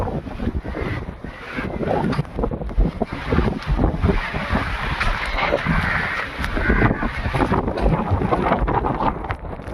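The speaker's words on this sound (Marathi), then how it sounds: "वारा खूप आहे" Strong wind blowing across a seaside jetty at Jivna Bandar, Shrivardhan, loud continuous gusts buffeting the microphone, with someone talking through much of it.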